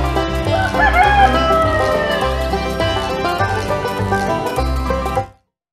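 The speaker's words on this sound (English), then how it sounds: "Right now I'm going to go down and give the chicken some scratch." Chickens at a farm, with clucking and a rooster crowing as scratch feed is handed out, loud and continuous over a dense backdrop of other steady sounds until an abrupt stop.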